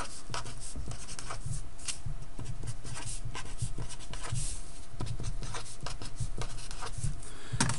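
Pen or marker writing out an inequality by hand on a surface, a steady run of scratchy strokes and taps filling the whole stretch, close and moderately loud, with no talking.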